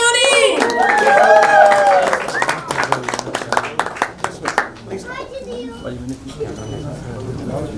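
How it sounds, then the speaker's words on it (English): Audience in a conference hall claps for actress and model Sunny Leone, scattered hand claps rising amid voices and someone talking, with music-like tones early on and clapping thinning out toward the end. "Everyone, put your hands together for Sunny Leone!"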